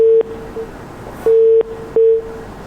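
After a dropped phone call, a loud busy tone beeps three times at a steady pitch, each beep cut off sharply, with faint line noise in the gaps.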